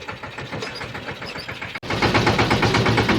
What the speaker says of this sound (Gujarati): ટ્રેક્ટર પહેલાં ને બીજા ગિયરમાં જ હાંકવાનું હોય, ત્રીજા ચોથામાં તો પડે જ નહીં